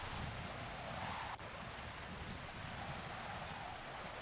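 Steady roaring wind with rain hissing throughout, a constant dense wash of storm noise with no pauses, from a storm in the video game Railway Empire.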